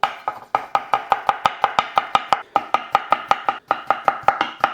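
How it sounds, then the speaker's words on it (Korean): Steady, rapid knife strokes slicing cucumber into 1–2 mm rounds on a wooden cutting board, about twenty crisp chops in a quick, even rhythm with a couple of brief pauses, close and clear with no talking. "오늘도 도마 소리가 좋습니다."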